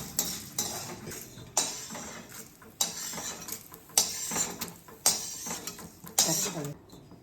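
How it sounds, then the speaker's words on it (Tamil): Dried red chillies frying in a pan: a spatula repeatedly scrapes and clanks against metal in steady strokes about once a second, over a faint background sizzle. "காஞ்ச மிளகா போட்டு நல்லா வறுத்து எடுத்துக்கணும்"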